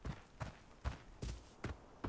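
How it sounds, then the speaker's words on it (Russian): Rhythmic footsteps thud at a quick, even pace, like someone running nearby in the video game Arena Breakout, with soft noise between each step. "Слышу, кто-то бегает."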